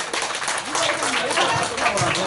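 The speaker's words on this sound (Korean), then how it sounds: "박수 한번 주세요. 박수!" Relatives applaud at a year-end cousins' family gathering in a wedding hall, a continuous wash of clapping over crowd noise with voices mixed in.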